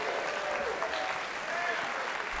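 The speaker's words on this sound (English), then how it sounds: "How about a round of applause for our guests, our judges, the clinicians?" Audience applause at a university jazz orchestra concert honoring guests and judges: dense, continuous clapping with some cheering voices mixed in, steady throughout.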